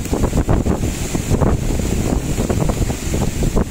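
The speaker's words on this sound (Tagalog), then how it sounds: "Nakakatakot yung tunog ng dagat ay." Rough sea waves churn and crash under loud, gusting typhoon wind at sea that batters the microphone, a dense continuous roar.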